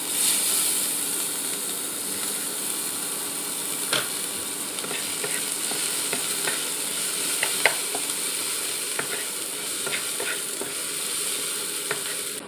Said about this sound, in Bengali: তেলটা গরম হয়ে আসলে এর মধ্যে দিয়ে দেব পেঁয়াজ কুচি